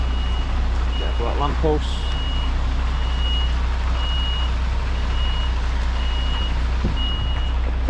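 An HGV tractor unit reverses a trailer on a small street, its reversing alarm beeping in an even, regular rhythm over a constant loud diesel rumble, while the driver talks.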